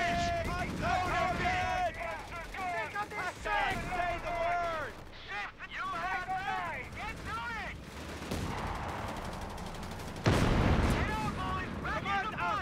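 Tank cannon fire and combat in Company of Heroes 3 set in North Africa, heavy booms and explosions mixed with shouted unit voice lines, loud and close with a big blast near the end.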